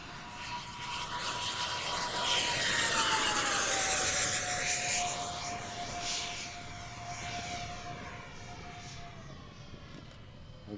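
An RC B-58 Hustler model jet flies at full throttle, its engine whine holding steady and loud, rising slightly in pitch and sweeping past before easing as it pulls away.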